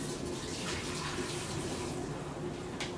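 Water runs steadily from a tap while thawed seafood is rinsed, a close, continuous gushing hiss with no talk.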